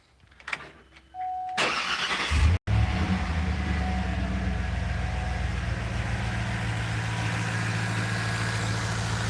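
A 2010 GMC Denali truck engine cranks, catches and starts, then settles into a steady, smooth idle with a low even rumble after its tune.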